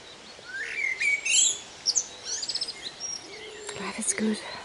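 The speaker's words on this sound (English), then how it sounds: "Blackbird singing up there." A blackbird sings in the open countryside near resting sheep, its clear fluted phrases and chirps rising and falling over a few seconds, moderately close and alone without any talk.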